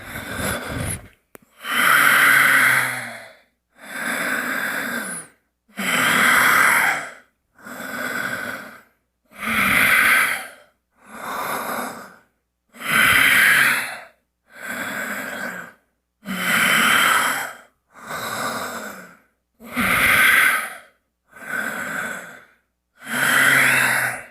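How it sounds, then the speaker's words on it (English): Slow, deep breaths during tai chi practice, a steady cycle of about a dozen loud, close inhales and exhales separated by short pauses, with no talking. "Exhale down, in."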